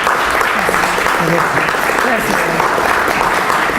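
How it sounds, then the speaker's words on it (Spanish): Audience applause for a female doctor introduced as a speaker at a Spanish-language academic talk on gender violence, a steady broad wash of clapping that fills the room while a voice speaks briefly over it. "Un aplauso para la doctora Herrera."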